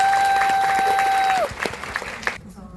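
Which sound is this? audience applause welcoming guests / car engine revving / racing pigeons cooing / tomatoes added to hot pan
audience applause welcoming guests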